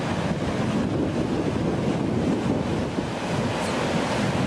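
Giant ocean surf crashing ashore in a steady, loud roar of breaking water with wind buffeting the microphone throughout, no distinct pauses between waves.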